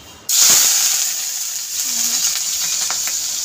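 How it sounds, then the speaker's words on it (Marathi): Finely chopped pumpkin dropped into hot oil bursts into a loud, close sizzle that starts suddenly and then settles into a steady hiss of frying, with a few faint clinks and no talking. "आणि तेल गरम झालेलं आहे मस्तपैकी आणि आता आपण याच्यात टाकू बारीक कट करून घेतलेला भोपळा"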